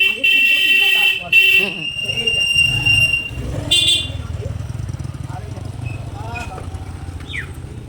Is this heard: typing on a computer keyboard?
no